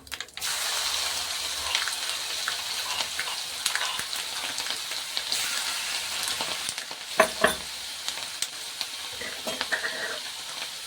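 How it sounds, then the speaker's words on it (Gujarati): Crushed garlic and mustard seeds fry in hot oil as a steady sizzle, with sharp crackling pops and clicks scattered through it and a few louder spatters in the second half. "રાઈ ને એવું બધું ફૂટી જાય મસ્તનું। પછી આપણે આ ખાંડેલું લસણ નાખીશું।"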